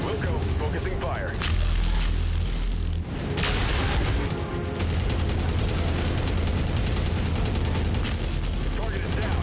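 Heavy weapons fire from battling mechs in MechWarrior 5: Mercenaries, a dense continuous barrage of booms and crackling shots that runs the whole stretch, with a voice speaking over the combat.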